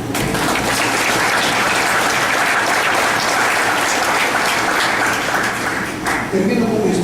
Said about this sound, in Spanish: Yo le voy a dar un aplauso al Señor.